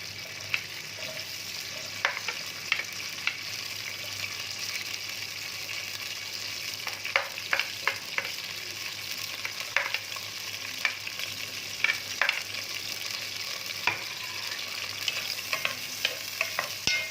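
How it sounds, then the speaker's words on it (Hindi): Steady sizzling of onions frying in hot ghee, with occasional sharp crackles and spoon scrapes as they're stirred, no voices. "घी में मैं ये प्याज डाल दूंगी।"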